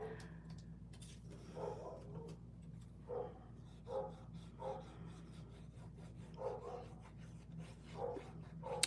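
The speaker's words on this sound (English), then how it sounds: "And now the dog is barking." A dog barks in short, faint bursts, roughly half a dozen times, somewhere in the background of a quiet indoor card-making session with a steady low hum and no talking.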